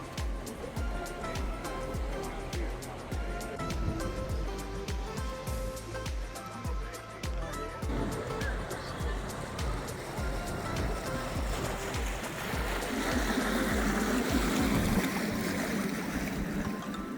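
A canal tour boat moves along the water in Amsterdam, a quiet steady motor hum with lapping water and rushing wind, with faint voices in the background.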